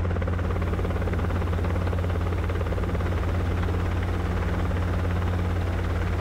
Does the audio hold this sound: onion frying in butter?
no